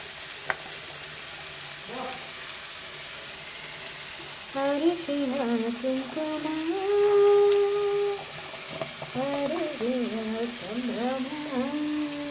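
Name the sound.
potatoes frying in oil in a pan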